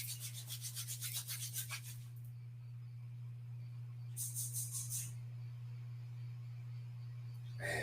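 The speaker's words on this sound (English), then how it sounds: "And stop rubbing the hands" Palms of the hands rubbed briskly together, two bursts of rhythmic dry swishing strokes, close and soft, over a low steady hum.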